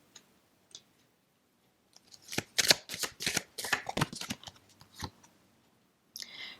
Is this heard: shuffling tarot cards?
yes